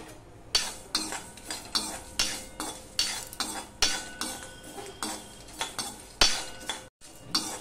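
Panch phoron, fennel seeds and a dried red chilli dry-roast in a wok while a spatula scrapes and clinks against the metal in regular, repeated strokes, close and fairly quiet, with no talking.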